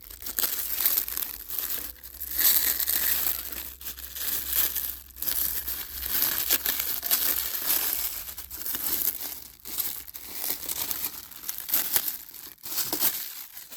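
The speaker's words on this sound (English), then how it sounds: "here comes the plastic unwrapping clip" Plastic wrapping crinkles and tears as it is pulled off a HobbyPlus Terranaut 8x8 RC truck, close-up rustling in uneven bursts with brief pauses, and no talking.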